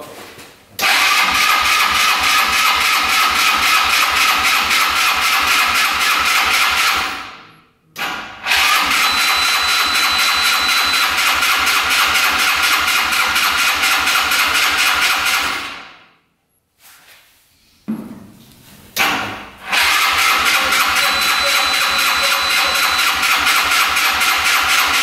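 A cheap used UTV's engine, choked after its carburetor was fixed, cranks and catches several times, revving loudly then idling with a steady buzzy drone, cutting out briefly twice before restarting.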